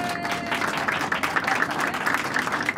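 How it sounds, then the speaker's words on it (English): Audience applause for the crew marking the 20th birthday of the 747 serving as Air Force One, a dense, steady wash of clapping throughout, fairly loud and continuous with no clear talk over it. "Give a big round of applause."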